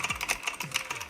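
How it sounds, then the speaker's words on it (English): Rapid, sharp clicking keystrokes on a Rosewill Striker gaming keyboard with tactile blue switches, close and loud in a steady irregular patter. "My keyboard, which is a Roswell Striker gaming keyboard, tactile blue switches, really loud."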